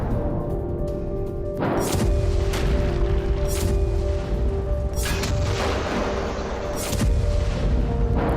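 Bombardment in Khan Younis, Gaza, heard through news footage: repeated heavy booms and blasts strike at intervals over a continuous loud rumbling background, with a faint steady tone running beneath.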